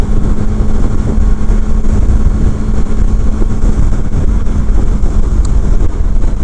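Triumph Speed Triple R 2016 naked motorcycle under way, a loud continuous engine drone with a steady low hum, heavily buffeted by rushing wind across the microphone.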